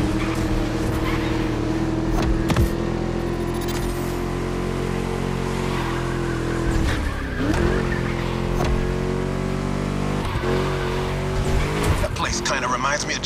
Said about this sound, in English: Just listen to that V8, like a chunky, down-tuned guitar riff.